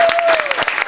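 A short, loud burst of audience applause fills a small cafe during a live acoustic performance, with a faint sustained tone sliding slightly underneath.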